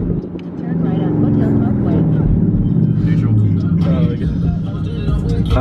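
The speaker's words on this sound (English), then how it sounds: "You want to see this downshift?" A custom-built car's engine drops a gear, revs swelling up and then holding in a loud, close roar, with people talking over it.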